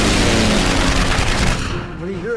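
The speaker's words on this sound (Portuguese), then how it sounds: "Os 109 abrem fogo no momento em que a mensagem de Sutcliffe chega aos colegas." Messerschmitt Bf 109 fighters open machine gun fire in a dramatized aerial combat against P-47 Thunderbolts, a loud rapid burst of gunfire over engine roar that fades after about a second and a half as a tone rises.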